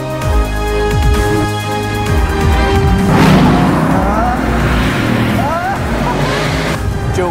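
A Bugatti Veyron's 1,200-horsepower engine with a dual-clutch gearbox roars loudly under hard acceleration, its pitch rising and dropping through quick shifts, with voices in the car over the engine.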